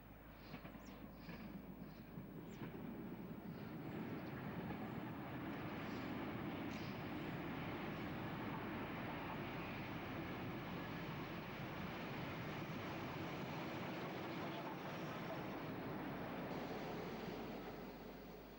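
Clan Line steam locomotive heads the Surrey Rambler rail tour, a sustained low rumble of a passing train heard at a distance, steady and fairly faint for the whole stretch.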